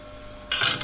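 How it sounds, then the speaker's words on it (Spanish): A small fan for extracting soldering iron fumes switches on partway through, a sudden steady airy whoosh that jumps from a faint background hum to loud, close rushing air. "Ponemos en marcha nuestro ventilador para que absorba"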